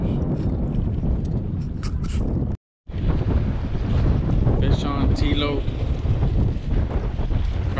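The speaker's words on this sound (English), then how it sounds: "Can't hear us because the wind" Strong wind buffets the microphone on a downtown Corpus Christi fishing jetty, a loud continuous rumbling roar that drowns everything, briefly cutting out before resuming, with faint voices buried underneath.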